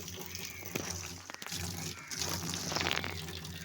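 Water runs from a tap while a dirty fish tank is washed, a close, steady splashing and gurgling that swells and shifts as the flow is moved around, with no talking.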